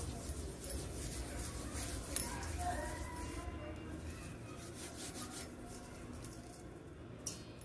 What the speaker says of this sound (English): Then goes I'll add this kasturi methi. Okay, just crush it nicely.